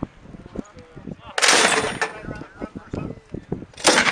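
An MK 19 grenade launcher fires on a military qualification range, with sharp loud bursts standing out among clicks, handling noise and a few distant thumps.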